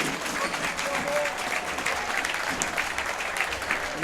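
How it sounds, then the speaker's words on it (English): A football crowd at Darlington's 1-1 National League North draw with Leamington applauds at the final whistle, a dense steady clapping that fills the stadium while a commentator talks over it. "The crowd rises to applaud."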